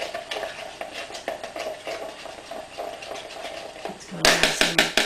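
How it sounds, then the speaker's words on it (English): Boiled linseed mixture for keto biscuits stirred in a pot, with rhythmic scraping and soft tapping strokes, ending in louder, quicker clattering against the pan. "Quick stir."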